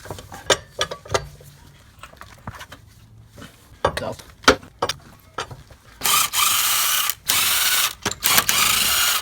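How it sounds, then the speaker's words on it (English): A breaker bar works the lug nuts on a 2003 Ford Taurus wheel, giving sharp metallic clanks and ratcheting clicks spaced irregularly, followed by a louder, steady stretch of close mechanical noise. "Then we'll use a breaker bar. Break these nuts."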